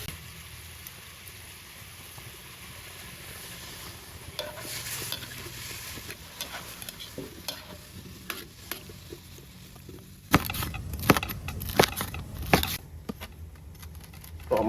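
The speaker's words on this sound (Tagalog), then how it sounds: "Siyempre, kung natin igisa yung kalabasa." Squash (kalabasa) sautéing in a pan in a home kitchen, a steady soft sizzle with stirring scrapes that grow louder and busier near the end, no talking.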